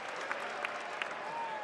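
Basketball arena crowd in a college game applauding, a faint, steady wash of clapping and cheering heard from a distance with a few brief louder bursts.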